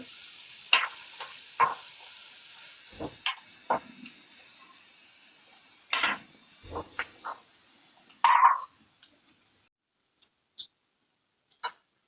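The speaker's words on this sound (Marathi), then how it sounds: "आता पहा मिरची हे छान फ्राय झाले आहे" Green chillies and garlic frying in a pan over a medium flame make irregular sputters and sharp pops, some close together and others isolated, fairly quiet overall with no talking.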